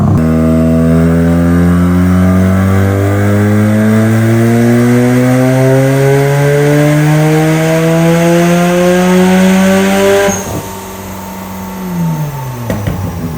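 Rebuilt Mazda RX-7 rotary engine on a dyno revving steadily up to 6,000 RPM, a loud rising buzzy drone that climbs for about ten seconds before the throttle closes and the pitch drops away.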